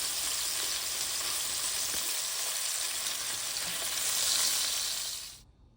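Lamb chops searing in a hot pan, a loud, steady close sizzle that continues evenly, swells slightly near the end, then cuts off abruptly.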